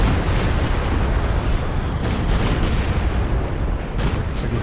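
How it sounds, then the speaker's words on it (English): Stuka rocket barrage exploding in Company of Heroes 2 near a mortar pit in a 2v2 match: a dense, continuous roar of booming blasts that stays loud and steady throughout, with no talk. "Oh, here comes some Stug rockets."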